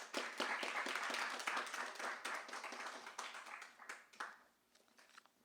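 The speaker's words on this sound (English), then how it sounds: "if you can have a round of applause for Stephanie, please" Audience applause at a poetry reading: a dense patter of many hands clapping, steady at first, then thinning out and fading toward the end.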